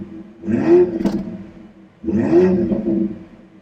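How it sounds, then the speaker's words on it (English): A 2025 BMW X3 M50 in Sport Plus mode, warmed up, gives two strong revs about two seconds apart. Each is a loud rising exhaust blare that falls off into a quieter idle rumble. "So we're going to do a few revs here,"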